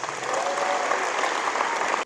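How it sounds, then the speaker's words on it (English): Warm, steady applause from a school audience at a high school college signing ceremony, dense clapping sustained evenly for a couple of seconds before cutting off abruptly. "Let's have a big round of applause for Ella Howard."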